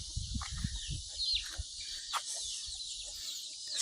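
Pet chickens on a rural family farm cluck in short soft bursts close by, over a steady high hiss of insects and a faint outdoor background.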